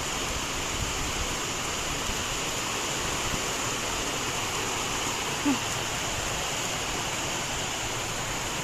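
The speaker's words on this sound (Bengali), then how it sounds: "আমার গাছগুলো একটু জল পাবে গো" Garden plants being watered in hot weather, heard as a steady, even hiss of running water with no pauses and a faint brief knock partway through.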